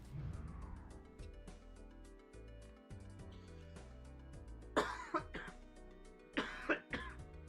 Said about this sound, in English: I'm starting to cough